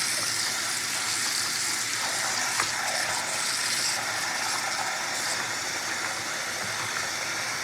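Water running into a container in a kitchen, a steady rushing gush throughout with small clinks and knocks, nobody speaking.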